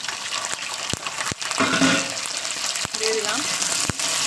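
Potatoes and meat tip into a pan of reddening onions and fry in a home kitchen, giving a steady broadband sizzle with a few sharp clicks and clinks and a brief spoken phrase over it.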